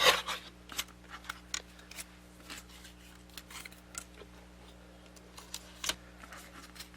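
Scissors snip through paper tabs for a craft project, a series of sharp, brief cuts spaced unevenly over several seconds, close and fairly quiet over a low steady hum, with no talking.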